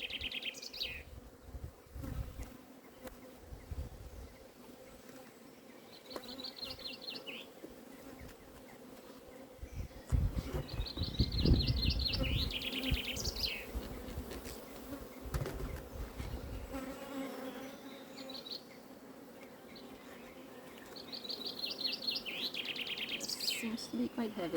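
Honey bees hum and buzz steadily around an open backyard beehive during an inspection, a close, continuous drone with birds chirping intermittently in the background.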